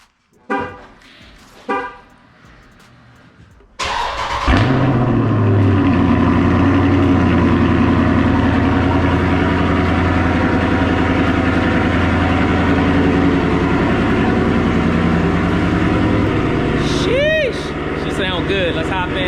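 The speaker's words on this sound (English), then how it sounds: "Let's get that cold start on this Corsa Extreme exhaust." A 2019 Dodge Charger Scat Pack with a Corsa Extreme exhaust cold-starts after a few quiet clicks, its engine catching with a loud bark and settling into a deep, steady high idle; a voice talks briefly over it near the end.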